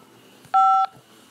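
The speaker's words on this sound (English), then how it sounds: "To accept this call, press 5 now." A single clear, loud telephone keypad touch-tone, the 5 key pressed to accept a collect call from a prison, lasting about a third of a second alone over faint line hiss.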